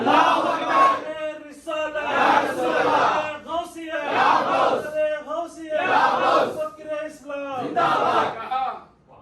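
A large gathering at a Wiladat-e-Ghouse Azam religious address answers with rhythmic unison takbir chanting, loud repeated shouted phrases in a steady call-and-response pattern, about five waves across the stretch.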